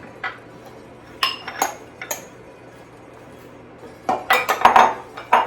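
Chickpeas, tomatoes and chopped cucumber are stirred together for a salad, a spoon clinking and scraping against a bowl in irregular bursts, quieter early taps giving way to a busy run of close clatter.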